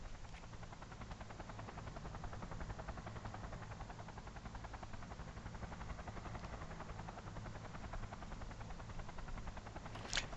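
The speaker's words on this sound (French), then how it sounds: "il y a le bruit de l'hélico, mais personne parle" Helicopter in flight inside the Cyberpunk 2077 game, a steady rotor drone and low engine rumble holding evenly throughout with no voices, ending with a brief click.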